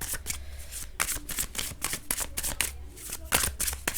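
Tarot cards shuffled by hand in quick riffling bursts, close and crisp, with short pauses between the bursts and faint talk underneath.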